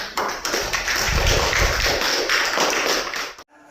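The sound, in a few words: applause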